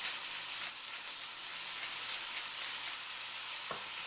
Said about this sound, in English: Cover that up and let it brown.